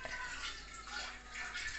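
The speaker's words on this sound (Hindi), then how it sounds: "थोड़ा पानी डाल रहे हैं" Water poured into a pot of tea at home in the morning, a steady close splashing trickle running on without a break for nearly two seconds, with no talk over it.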